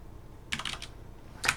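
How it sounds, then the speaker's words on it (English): Brief bursts of typing on a computer keyboard, close and quiet: a quick cluster of key clicks followed by another short pair of taps, with no talking. "Type in a number 1, a."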